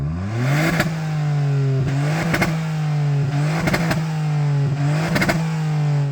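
A three-cylinder Ford Fiesta ST engine revs repeatedly, four sharp rising bursts over a steady idle, loud and close with a rattly edge.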